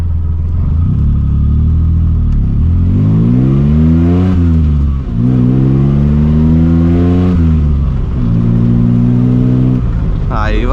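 A Maruti Suzuki SS (Maruti 800) with a carburettor engine pulls away in first gear, its small engine revving up in rising, falling sweeps, close and loud, before easing off near the end.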